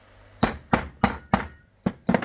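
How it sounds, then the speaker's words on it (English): A hammer drives a wheel bearing race out of a Cosworth hub with six sharp metallic blows, close and loud, falling at a steady rhythm with a brief pause before the last two quick strikes. "Just smashing the race out of it."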